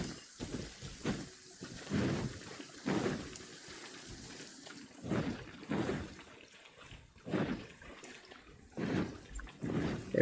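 Rain and rolling thunder in the video game Genshin Impact, with repeated swelling low rumbles and washes of noise rising and fading every second or two over a steady patter.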